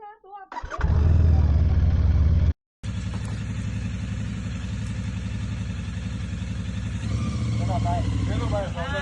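Royal Enfield Interceptor Bear 650 motorcycle engine starting and warming up: a loud, close, steady idle that is briefly cut off and then resumes and keeps running evenly, with slight changes in revs.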